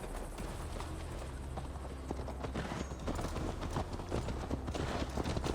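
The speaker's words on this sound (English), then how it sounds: "Mount up, Eivor. It's a long ride to Tamworth." Horse hooves galloping in the game Assassin's Creed Valhalla, a rapid continuous clip-clop rhythm on a mount, steady and close, with low rumbling ambience beneath and no speech.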